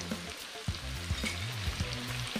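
Fish frying in coconut oil in a worn non-stick pan, a continuous close sizzle with periodic stirring knocks and scrapes, no talk.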